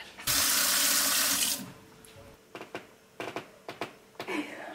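Kitchen tap running hard for a cold glass of water, a loud rushing burst of about a second before it shuts off, followed by a few clinks and knocks nearby.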